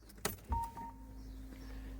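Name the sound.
Peugeot 3008 car being switched off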